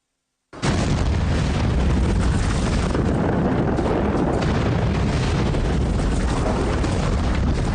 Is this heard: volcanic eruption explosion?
yes